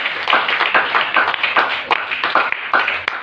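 A church congregation claps in praise of Jesus, a close, brisk burst of many hands with a loose, fast rhythm throughout, loud and busy with no talking.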